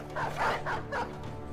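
A dog barks in a video game, a few yapping bow-wow bursts in quick succession, close and moderately loud over a steady game soundtrack.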